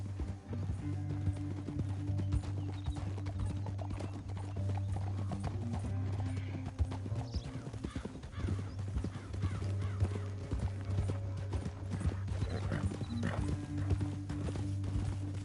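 Rapid clip-clop of hooves from several horses running continuously, with a brief whinny partway through, over a low rumble, in the video game Red Dead Redemption 2.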